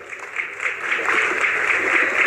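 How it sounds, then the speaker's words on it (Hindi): A crowd at a political rally in Sirsa, Haryana, applauds in a steady, sustained wash of clapping that grows slightly and holds, heard from a distance. "भाई तालियों की गड़गड़ाहट कम नहीं होनी चाहिए, जोरदार तालियां बजा करके"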